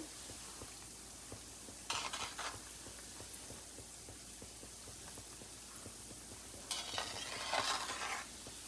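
Punjabi gulgule made from flour, semolina and jaggery stirred in hot oil: a steady soft sizzle of frying with repeated light scraping and stirring taps, and a couple of brief louder clatters of the utensil.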